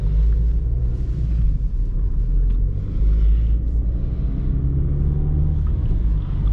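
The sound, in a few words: Alfa Romeo MiTo car overtaking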